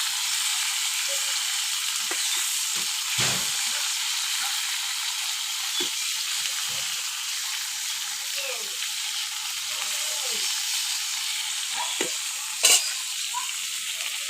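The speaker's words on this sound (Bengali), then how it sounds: "মাছটা আমি ভেজে নিচ্ছি।" Tilapia fish frying in oil over a wood fire, a steady close sizzle that runs throughout, broken by occasional soft clinks and scrapes and one sharper knock near the end.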